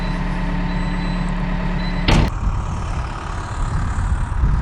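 Diesel skid steer engine idling steadily with a low rumble, then a brief loud burst as it revs or shifts near the two-second mark, followed by a rougher, throbbing run.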